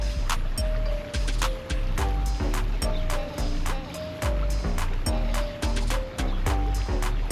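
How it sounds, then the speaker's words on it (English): Stream water flowing outdoors, a loud close rushing wash broken by repeated sharp splashing and clattering bursts in a rough rhythm. "He hears the water."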